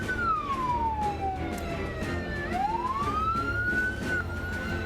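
Fire truck sirens wail from the scene of a fire, a rising and falling tone sweeping through several cycles over steady background traffic noise, moderately distant.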